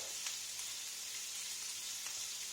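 Ginger stirred in a hot pan, sizzling steadily and softly at close range, with faint scrapes of a spoon through the hiss.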